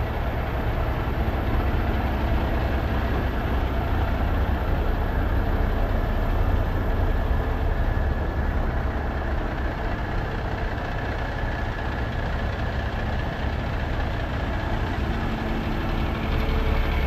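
A Kenworth truck engine idles steadily nearby at a memorial ride gathering, a continuous low rumble that holds even and unbroken throughout with no talk.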